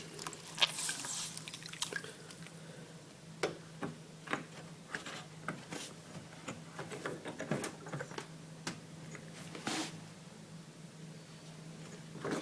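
Water drips and patters from the drain service flap of a Bosch washing machine onto a plastic bag, a faint, irregular series of small ticking drops in a quiet room.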